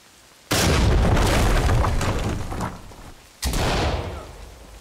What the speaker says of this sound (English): C2, flashbang it and clear it.